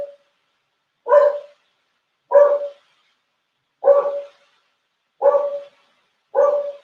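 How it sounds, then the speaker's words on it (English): A neighbor's dog barks outside in five evenly spaced single barks about a second apart, clear and fairly loud against silence. "Probably a neighbor walking his own dog."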